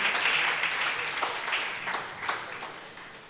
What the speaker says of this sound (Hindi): ताली बजाने से काम नहीं चलेगा मित्र